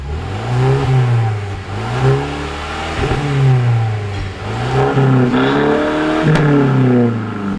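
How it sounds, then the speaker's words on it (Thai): A Mercedes W212 engine revving repeatedly through an open Valvetronic valve exhaust, loud and close, with rising and falling throttle blips in a steady rhythm. "เปิดวาล์วท่อดัง ปิดวาล์วท่อเงียบ"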